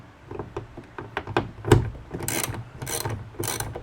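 A bolt on a truck light pod is unscrewed while the pod is lifted, giving a run of close ratcheting clicks and creaky metallic grinding with bursts of scraping noise.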